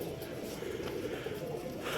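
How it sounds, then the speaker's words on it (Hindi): A Teddy pigeon on a rooftop gives a low, steady cooing murmur that blends into background hum across a short stretch. "अब देखते हैं कि क्या करता है ये कबूतर"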